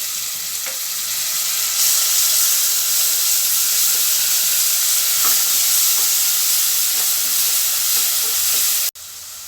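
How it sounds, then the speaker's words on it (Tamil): Ginger garlic paste fries in a pan for a plain kuska biryani, giving a loud, close, continuous sizzling hiss with faint stirring scrapes, alone without voices until a brief cut at the end. "இப்போ இஞ்சி பூண்டு கொஞ்சம் வதங்கியாச்சு."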